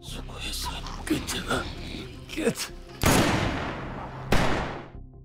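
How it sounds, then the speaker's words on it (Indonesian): Two sharp, loud gunshot blasts ring out with echoing tails, following a stretch of muffled thuds and murmured voices. "suara tembakan barusan kemudian menarik perhatian para zombie di luar"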